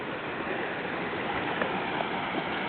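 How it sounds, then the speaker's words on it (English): Water from a waterfall in a town park on Hilton Head Island spills and rushes in a steady, even wash. It holds at a constant level throughout, with no voices over it. "And then we have a waterfall over here."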